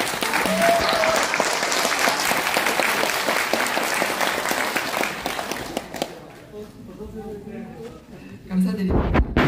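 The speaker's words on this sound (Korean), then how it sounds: "박수 보내주실까요?" Dense applause from the audience at a seminar on completing Sejong as the administrative capital, sustained for about six seconds then fading to scattered claps, with a voice speaking over the tail.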